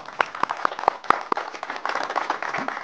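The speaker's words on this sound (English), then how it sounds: "Give me a round of applause." Live audience applause for a volunteer coming up on stage, a brief burst of scattered claps that thickens into steady clapping.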